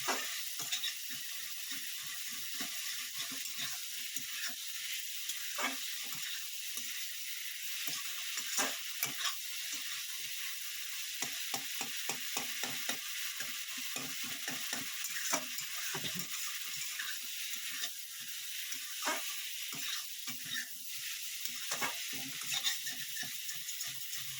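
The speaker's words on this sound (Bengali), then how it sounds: "মশলাটা ভাজা ভাজা হয়ে গেছে।" Spice paste for a drumstick and bata fish curry fries in a pan, a soft steady sizzle with frequent scraping stirs and clicks of a utensil throughout, fairly quiet and without talking.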